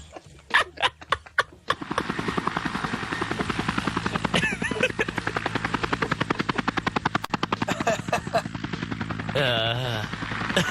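A helicopter sound effect: loud, steady rhythmic rotor chopping with sharp beats that continue throughout and a brief whining swell near the end.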